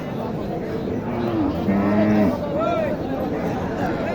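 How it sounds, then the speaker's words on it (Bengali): A calf moos at a rural cattle market where cows and calves are sold, giving a couple of moderate, drawn-out calls over steady market crowd noise and background talk. "এই যে একটা সার বাছুর"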